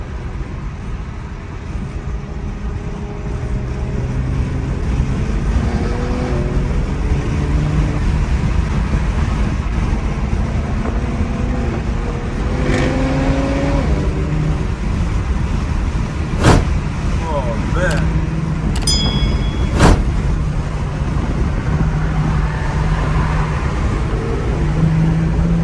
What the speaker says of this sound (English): That boy car sound crazy, bro.